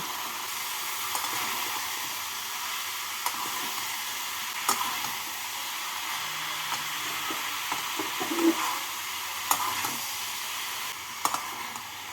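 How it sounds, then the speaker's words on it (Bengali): Chopped bottle gourd is stirred into spice paste frying in a pan for a fish-head curry, giving a steady close sizzle and hiss broken by light scrapes and taps of the spoon. "এবার এর মধ্যে কেটে রাখা লাউ দিয়ে দেব লাউ দিয়ে মশলার সাথে ভালো করে নাড়াচাড়া করে মিশিয়ে নেব"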